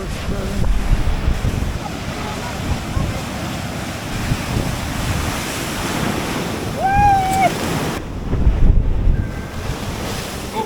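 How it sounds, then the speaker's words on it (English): Wild Atlantic waves crashing against a harbour wall, with continuous surging surf and heavy wind buffeting the microphone, swelling louder near the end. "we walked along the harbour wall and we spent a good few minutes watching the wild waves"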